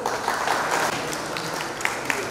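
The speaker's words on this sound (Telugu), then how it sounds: "సో వాళ్ళందరికీ గట్టిగా చప్పట్లు కొట్టండి" An audience at a cancer hospital event in Nizamabad claps together in sustained, fairly steady applause, with a few sharper claps standing out near the end.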